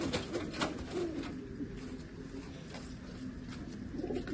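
Pigeons coo steadily and close by at a loft where broken-beak (murichundan) birds are kept, a continuous layered cooing with no voices present.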